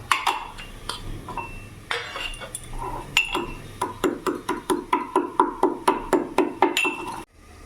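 Dry-roasted five-spice (panch phoron) pounded in a mortar and pestle: a few scattered knocks, then a fast, steady run of sharp, close, loud clinking strikes that stops abruptly.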